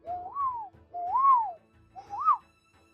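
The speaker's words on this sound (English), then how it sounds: "You can hear around you chirps and whistles" Forest ambience carries three clear, bird-like whistles, each swooping up and then down in pitch, evenly spaced and close, with no talking.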